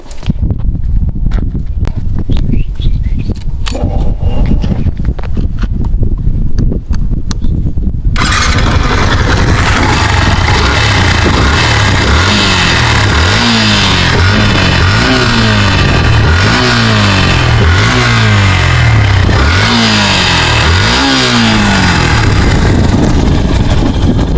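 A Yamaha FZS V2 motorcycle engine starts after a few seconds of quieter shuffling, then idles loudly and close with repeated rising revs blipping in a steady rhythm.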